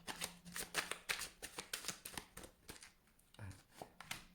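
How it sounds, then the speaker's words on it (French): Five tarot-style playing cards are drawn and handled one by one, giving a rapid run of crisp, close flicks and snaps, followed by a softer slide and tap as the cards are laid down. "Je prends cinq cartes, voilà."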